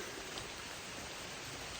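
Rain falls steadily on hikers along a mountain trail, a dense even hiss that stays constant and fairly faint with no talk.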